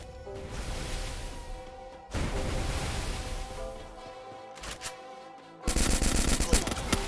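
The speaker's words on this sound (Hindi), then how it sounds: "श्रेय वाईटी ने विराज को P90 से चुम्मेश्वरी हेडशॉट मार दिया है।" P90 fire in a battle royale video game: rapid bursts of loud automatic shots in several stretches, with brief pauses between them and a denser, harsher volley at the end.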